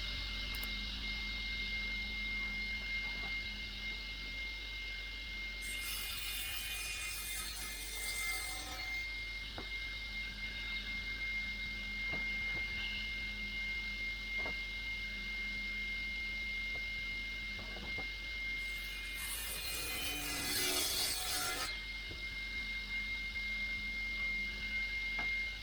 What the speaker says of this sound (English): I've angled the saw blade to 5 degrees and now we're just going to put a bevel on each of the edges.